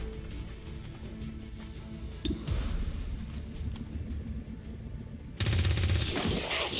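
Rapid bursts of XCOM 2 Long War gunfire crackle steadily throughout, with a louder, denser volley of shots erupting near the end.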